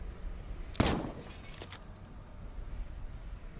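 A gunshot from the video game Dishonored 2 rings out once, loud and sharp with a brief ringing tail, followed by a few faint clicks and a steady low game ambience.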